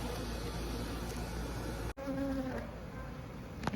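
Honeybees buzz continuously and close by around a beehive during queen installation, with a brief dip midway through the dense droning.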